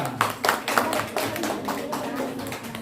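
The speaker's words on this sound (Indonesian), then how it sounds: "tepuk tangan untuk kelompok 3" Classroom applause for a student group: a brisk run of hand claps, fairly close and steady, fading slightly toward the end, with murmuring voices underneath.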